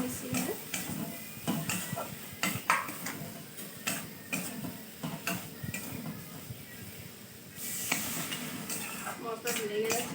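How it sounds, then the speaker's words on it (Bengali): Fried potatoes and pointed gourd being stirred into spices in a pan, with repeated scraping and clinking of a spoon against metal over a soft sizzle, and a voice speaking now and then. "দিয়ে আলু পটলগুলো মশলার সাথে খুব ভালোভাবে একটু মিশিয়ে নেবে।"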